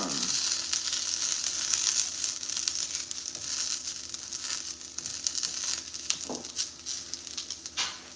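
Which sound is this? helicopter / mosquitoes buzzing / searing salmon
searing salmon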